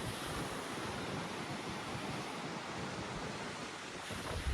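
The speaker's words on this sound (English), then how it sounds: "so it's very windy out here, so there's probably going to be some wind noise on the microphone" Strong wind buffets the microphone beside ocean surf breaking against lava rocks on a Maui shore, a constant loud roar of wind and waves with no voices.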